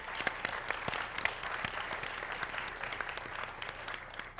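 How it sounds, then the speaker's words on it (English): A panel audience at an education conference applauds, a steady, fairly distant patter of many hands clapping that holds at an even level throughout. "So if we could give them a round of applause as well."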